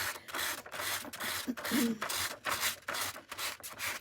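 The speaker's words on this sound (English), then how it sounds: "I'm just taking that sandpaper, and this isn't the most coarse sandpaper in the package" Regular, not very coarse sandpaper rubbed by hand over a painted craft piece, giving a series of repeated close scratchy strokes in a steady back-and-forth rhythm with brief pauses between passes.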